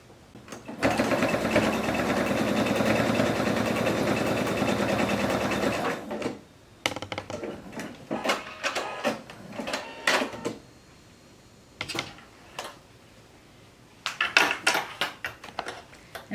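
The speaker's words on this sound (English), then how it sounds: "These little ends need to be sewn together, so I'm going to do that very quickly." A sewing machine runs in one sustained burst, stitching pinned quilt ends together, then falls to scattered clicks, taps and handling knocks as the fabric is shifted, all close and without talk.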